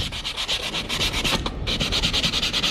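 Sandpaper is rubbed by hand over a wooden picture frame with filler, giving steady rhythmic back-and-forth scratching strokes, close and continuous with one brief break.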